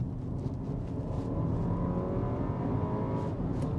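A 2022 base Porsche Macan accelerates hard, its engine note a steady, rising drone with rough low rumble, heard from inside the cabin with no talking.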